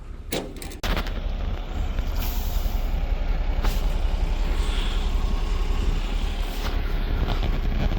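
A transport truck delivering a used car rumbles loudly and steadily at close range, with sharp hissing air-brake releases and a few clanks as the car is unloaded.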